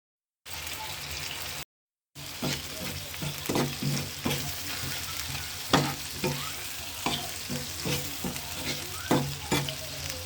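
Fish cooked down with lightly fried onions in a pan gives a continuous soft sizzle, punctuated by sharp scraping knocks from a utensil stirring, after a brief silent gap near the start.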